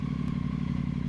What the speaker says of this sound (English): Watch how I gently release the clutch lever and the bike responding to that magically.